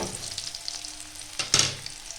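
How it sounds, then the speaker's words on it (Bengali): Green chillies and nigella seeds frying in oil for a Bengali katla fish curry, with a bright crackling sizzle close by and one louder stirring scrape partway through. "একটু ভেজে নিতে হবে। কাঁচা লঙ্কার যে একটা স্মেল ভালো করে আসবে, কালো জিরার গন্ধটাও আসবে।"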